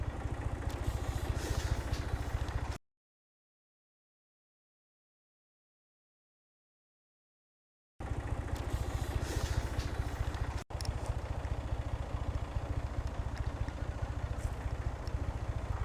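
A tractor-powered walnut tree shaking machine runs with a loud, steady, clattering engine drone close by, broken by a few seconds of total silence before resuming, no talking.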